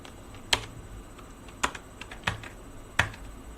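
Typing on a computer keyboard while writing a shell script in VS Code, with a few sharp separate key clicks and soft faint tapping between them, close and alone in a quiet room.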